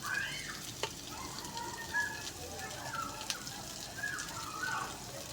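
Steady crackling sizzle of spices frying in hot oil as tempering for masoor dal, close up, with occasional clinks and brief voices in the background.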